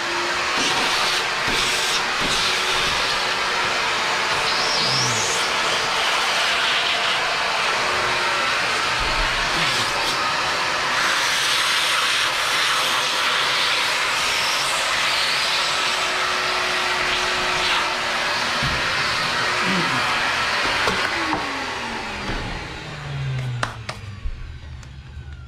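A vacuum cleaner runs steadily during bathtub surround installation in a bathroom, a loud continuous whine and rush that holds for about twenty seconds, then cuts off with a few knocks and handling sounds.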